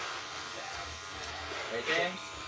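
Electric hair clippers fitted with a number 3 guard buzzing faintly while tapering curly hair at a barbershop, a low hum under a voice, with a brief louder pass near the end.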